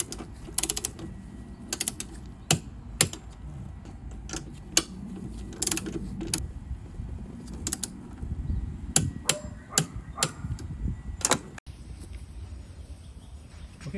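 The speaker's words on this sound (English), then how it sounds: "I'm also going to tighten these down to 30 Newton meters" A ratchet clicks in irregular quick bursts while the air strut nuts on a 2007 Mercedes E550 W211 are tightened to 30 newton meters, with close, crisp metallic ticks over a low workshop background.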